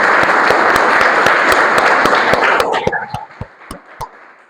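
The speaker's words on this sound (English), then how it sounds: "Can we have a huge round of applause for everyone?" Applause from the audience at a Toastmasters club meeting, dense steady clapping for almost three seconds that thins into a few scattered, fading claps.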